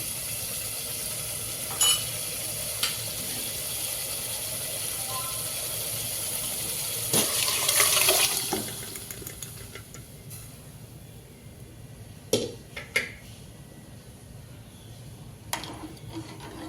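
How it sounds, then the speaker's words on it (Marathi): Mutton curry boiling in a pot, a steady sizzling bubble throughout, with a few sharp clinks of a utensil against the pot. "मस्त खळखळून अशी उकळी येऊ द्यायची"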